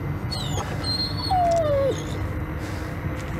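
A dog in the Blair Witch video game gives a single thin, falling whimper over a steady low ambient rumble of a game soundtrack, moderately loud and nearby.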